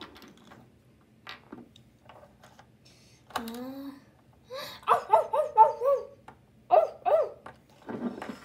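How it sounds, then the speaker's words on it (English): A guard dog barks in a horse stable video game: a series of short, mid-pitched barks and yelps, fairly close and loud, following a rising whine. "The guard dog woke up."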